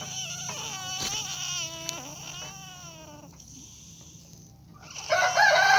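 Indian runner hen calling while laying an egg, a close series of loud strained, wavering cries and squawks, then a brief lull before a noisy rustling burst.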